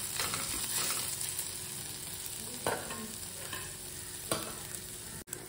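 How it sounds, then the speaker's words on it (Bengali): Vegetables with ginger stir-fried in a pan, a continuous close sizzle broken by a few sharp clacks of a spatula scraping and tossing, no voices. "এবার সবজিগুলো দিয়ে দিলাম, ভালো করে মিক্স করে দিই।"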